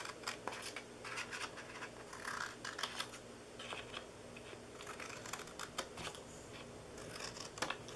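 Scissors snip through a paper box in a run of quick, crisp cuts with brief pauses between them, close by and fairly quiet, with no talking.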